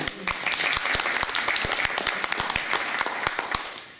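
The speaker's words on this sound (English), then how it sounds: "Let's give them a round of applause." An audience at a reading tutor training meeting gives a steady round of applause, many hands clapping together, dense and fairly loud for several seconds before tapering at the end.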